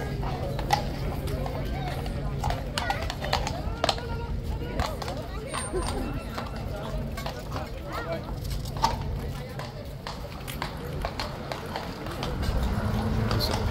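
Horse hooves clip-clop at a steady walking rhythm near a tourist spot, fairly close and moderately loud over constant crowd babble and street bustle.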